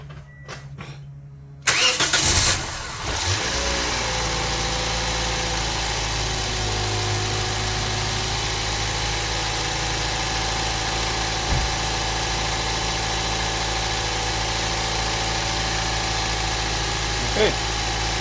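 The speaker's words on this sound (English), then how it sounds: "Alright, let's start the car." After a short quiet stretch, a Toyota Yaris engine cranks and catches, then settles into a steady, moderately loud close idle with a faint clunk near the end.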